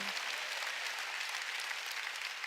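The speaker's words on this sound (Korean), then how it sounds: "박수." A church congregation clapping together, a dense, even wash of applause holding steady from start to finish at a moderate distance with no voices over it.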